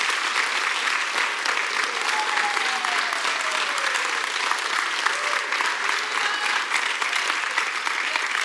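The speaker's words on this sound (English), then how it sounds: "Come on, give him a hand clap of praise." A church congregation claps in praise, a dense, steady wash of many hands sustained throughout, with faint tonal organ or keyboard notes drifting underneath.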